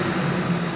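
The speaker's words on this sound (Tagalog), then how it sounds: "Ito naman yung fire pump ng Daling." A steady, loud engine drone from an old fire pump engine running in a pump room, a continuous mechanical roar with no pauses and no voices.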